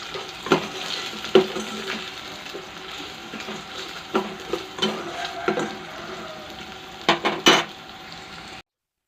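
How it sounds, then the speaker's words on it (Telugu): Onions fry until golden in a pan for a spicy potato curry, with a soft continuous sizzle and intermittent metal clinks and scrapes of stirring, close up. "ఆనియన్స్ బాగా ఫ్రై అయిపోవాలి గోల్డెన్ కలర్లో వచ్చేలాగా వేసుకోవాలి"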